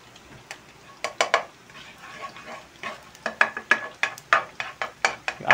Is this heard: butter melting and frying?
yes